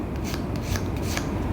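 Fine plastic being sanded with a Godhands acrylic FF board sanding stick, a steady close dry rasping scrape running throughout with no voices.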